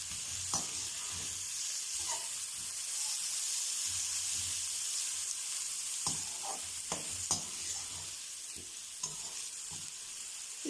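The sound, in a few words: finely chopped onions frying in oil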